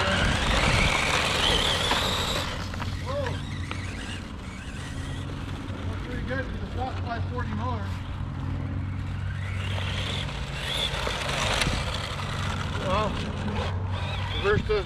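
A small RC Sand Scorcher buggy with a stock 540 electric motor drives around an outdoor arena, its high motor whine rising and falling through repeated runs under steady background noise, with someone talking over it.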